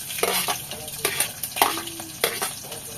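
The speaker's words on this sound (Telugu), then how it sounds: "ఆవాలైతే చిటపడం ఇస్తుంది." Mustard seeds spluttering in hot oil, a steady bright sizzle punctuated by several sharp crackling pops, close and fairly loud with no voices.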